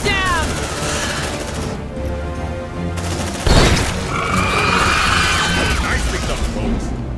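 Grenade blast and gunfire in the sci-fi squad game Aliens: Dark Descent, a loud sudden boom at mid-clip over continuous rattling shots and mechanical clatter, with a voice shouting briefly earlier.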